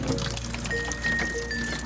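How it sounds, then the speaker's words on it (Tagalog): Clean water pours and trickles over a sponge as it is rinsed after soaping, a steady close splashing flow filling the short moment with no talk. "babanlawan ko naman siya ng malinis na tubig"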